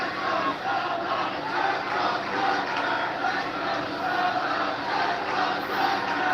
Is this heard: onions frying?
no